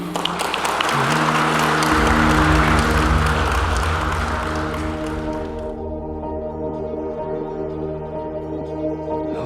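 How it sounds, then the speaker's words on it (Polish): Wedding guests applaud the newlyweds, a dense wash of clapping from a crowd that swells and then fades out midway as sustained music with steady tones continues alone. "Powitajmy oklaskami nowożeńców"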